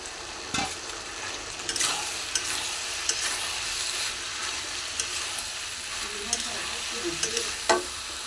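Pumpkin pieces coated with turmeric and chili powder fry in a pan while being stirred, giving soft sizzling with intermittent scraping and knocks of a spoon against the pan, close up with no talk.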